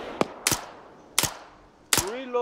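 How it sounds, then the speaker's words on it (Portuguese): Gunfire in the military video game Arma 3: four sharp, separate shots at irregular intervals, moderately loud, each with a short echoing tail, over faint background noise. "Vocês estão tomando tiro de leste ainda, tá?"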